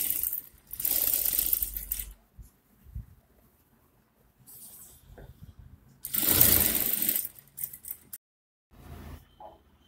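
A sewing machine stitches pleats into a chemise skirt in short separate bursts of rapid mechanical clatter, with quiet gaps between the runs and one longer, louder run near the end.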